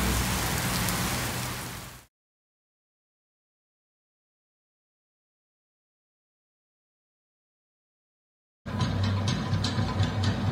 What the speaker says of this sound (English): Here comes the rain. First time it's been raining since we've been here.